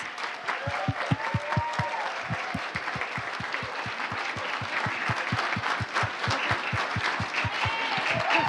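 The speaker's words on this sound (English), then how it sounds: "How about one more round of applause for the soaring sounds?" An audience at a school board meeting gives a round of applause, with many hands clapping in a steady wash. A strong rhythmic beat of unison claps runs underneath, and scattered voices and whoops rise above the crowd.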